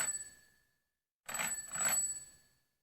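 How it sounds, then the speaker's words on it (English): A toy telephone rings in short electronic bursts, one fading ring, a pause of silence, then a louder double-pulsed ring close by. "the phone that was ringing, was a toy phone"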